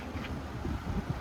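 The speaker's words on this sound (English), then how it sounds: "It's pretty windy out, so hopefully you can hear me pretty well." Outdoor wind blows steadily around a 2022 Subaru Ascent, a low, muffled rumble against the microphone that stays fairly quiet and constant through the short stretch.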